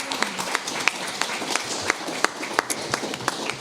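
Audience applause for council candidates at a Daly City candidate forum, steady scattered clapping from a modest crowd in a hall, with sharp individual claps standing out.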